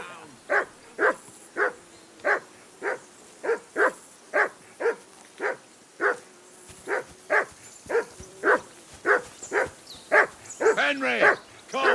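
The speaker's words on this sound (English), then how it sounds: "Be quiet, you flea bitten hound." A hound barks in the medieval video game Kingdom Come: Deliverance II, giving a long, steady series of single loud barks about every half second. The barks grow more excited and crowded toward the end.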